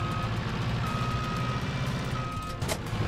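Steady, repeating forklift reversing beeps from the video game Best Forklift Operator, evenly spaced tones over a low engine rumble, with a brief clatter near the end.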